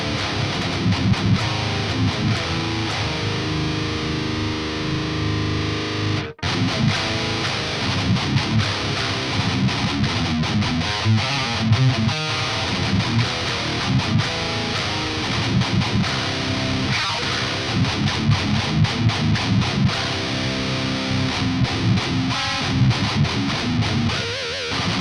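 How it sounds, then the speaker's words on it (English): Heavily distorted electric guitar through a Cobalt amp plugin modeled on a 5153 amp, loud dense chugging riffs with palm-muted rhythmic stabs and a short break near the start, played alone without talk. "the first amp is the Cobalt, which is based on a 5153, and it has a blue and a red channel"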